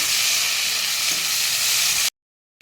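Tomatoes fry in oil with nigella seeds and green chilli, a dense, loud sizzle running steadily for about two seconds before cutting off abruptly, then briefly returning.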